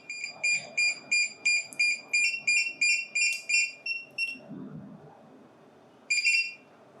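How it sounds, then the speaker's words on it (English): Electronic beeps from a DJI FPV drone and goggles during pairing: a fast run of bright, evenly spaced tones repeating for several seconds, a short pause, then one more beep, all clear and near. "once you hear the double beep, that means the pairing is done"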